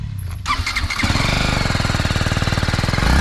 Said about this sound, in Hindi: एक पल के लिए मैं एग्जॉस्ट सुना देता हूँ